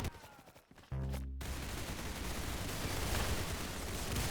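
Gunfire in the Roblox video game: rapid, dense bursts of shots fire continuously, loud and close, filling the scene after a short lead-in with no talking.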